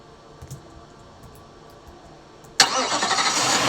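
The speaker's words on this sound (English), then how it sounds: "We go directly to the ATV." An ATV engine in the video game Toy Warriors turns over and catches abruptly after a quiet stretch, then settles into a loud, steady idle.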